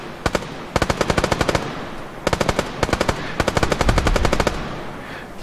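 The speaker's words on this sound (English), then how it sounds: "Oh, they're shooting back." Video game gunfire as enemies in an Iraq combat mission shoot back: loud, close bursts of rapid automatic fire in three volleys with short pauses between, plus a low rumble near the end.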